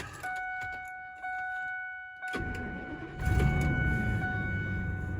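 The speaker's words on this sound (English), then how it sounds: "Fires right up. Good old V10." A Ford Excursion with a V10, left sitting about two weeks on a weak battery, cranks briefly and fires up, settling into a loud steady idle after a chime tone and a few interior clicks.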